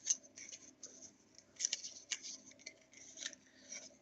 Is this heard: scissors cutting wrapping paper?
yes